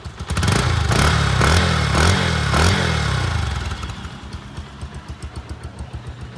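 A 2023 Bajaj Pulsar motorcycle engine runs close by, first loud and steady with a brief rev, then settling into a quieter, evenly pulsing idle.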